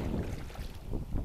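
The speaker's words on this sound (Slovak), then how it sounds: "stále poriadne fúka" Strong coastal wind on Sheffield Island in Connecticut, a steady rough buffeting roar with the low rumble of wind on the microphone, close and continuous.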